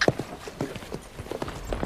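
Horse hooves clip-clopping in quick, uneven succession, close and fairly faint, with a brief sharp squeak near the start.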